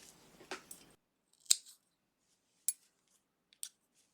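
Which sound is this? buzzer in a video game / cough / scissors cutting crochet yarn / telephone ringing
scissors cutting crochet yarn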